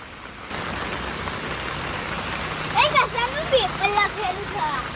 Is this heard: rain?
yes